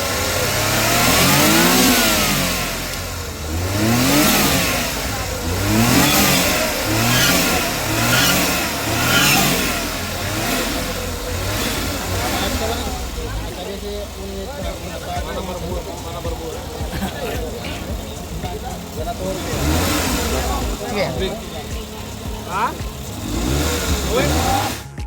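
A Suzuki DA64W 4x2 automatic (Samurai Edition) with a turbocharged engine, its revs climbing and falling in repeated loud vroom cycles close by, later dropping to a rougher idle with occasional blips while people talk over it.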